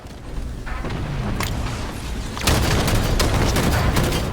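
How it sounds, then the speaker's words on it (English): Gunfire from a Halo 5 multiplayer match crackles in repeated bursts and booms, growing denser and louder partway through, with no talk over it. "Just throw a couple shots down."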